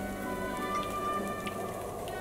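Steady rain patter from the Roblox game Royale High, an even hiss of drops with faint tonal game music underneath, continuous and moderately quiet.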